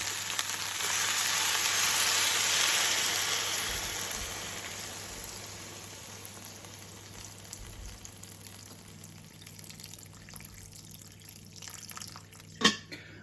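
Spring water pours steadily into a pot of potatoes and dumplings, hissing loudly at first and then fading, ending with a sharp clink.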